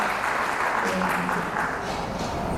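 Audience applause at a Royal Thai Navy ceremony as a Thai Oil company representative is called to the stage, a steady dense patter of clapping filling the room under an announcer's voice.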